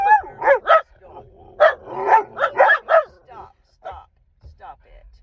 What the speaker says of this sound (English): My dog's barking at anyone walking a dog anymore.